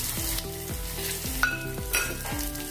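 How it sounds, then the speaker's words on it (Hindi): Chana dal and urad dal fry alongside onion in a pan, a close sizzle broken by several rhythmic stirring scrapes over a short stretch, with no voices. "अभी इसमें डालेंगे चना दाल और उड़द दाल 1-1 चम्मच।"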